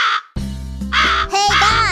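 Cartoon crows caw in a children's animated fable, with several loud, bright calls close together, one after another, alone and without talk.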